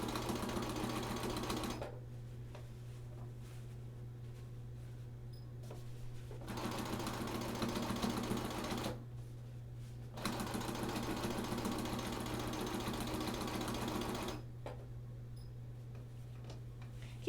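A home sewing machine stitching binding onto a quilt whirs in close, steady runs, stopping briefly a few times between bursts, with a constant low hum underneath and no talking.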